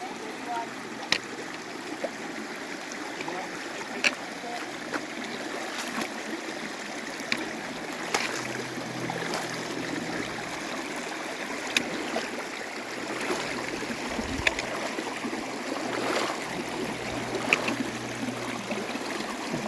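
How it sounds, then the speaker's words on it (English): A shallow stream runs steadily at a hiking trail crossing, a constant close rushing and trickling with occasional small clicks and taps over the top, no voices. "our first water crossing"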